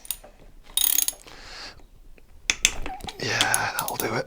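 A ratchet loosens the clutch bolts on a Honda CB750 with a slipping clutch, giving close, quick clicking bursts and metallic ratcheting. A voice speaks partway through.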